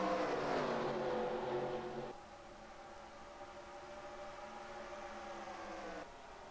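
Race cars in NASCAR Racing 2003 at Darlington, a pack of engines droning and whining together at a moderate distance, the sound dropping to a steadier lower hum partway through.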